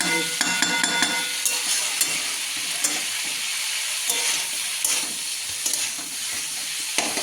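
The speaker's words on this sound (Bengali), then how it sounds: "এবার শিমটাকে ভাজা ভাজা করে তারপরে অল্প করে জল ছিটা দিয়ে দেবো" Broad beans (sheem) crackle and sizzle steadily in hot oil, with a spoon scraping and stirring the pan every so often, close up and fairly loud.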